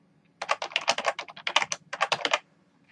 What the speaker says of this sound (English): And then you can just type in the message